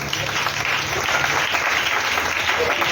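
Church congregation applauding in a dense, sustained burst of clapping that fills the space, loud and continuous, with voices mixed in the crowd.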